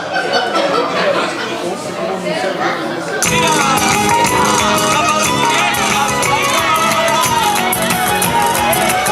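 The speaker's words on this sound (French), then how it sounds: "Allez, on applaudit." A flamenco dance performance at a Telethon charity event in Mulhouse, where the audience bursts into dense, loud applause and cheering that swells sharply partway through and continues steadily to the end, with crowd voices mixed in.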